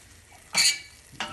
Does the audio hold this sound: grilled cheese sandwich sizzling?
yes